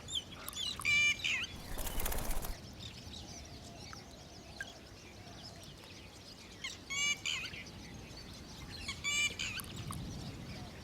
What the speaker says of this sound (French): Autour des petites mares se concentrent et s'épanouissent des milliers d'oiseaux de toutes les tailles et de toutes les couleurs.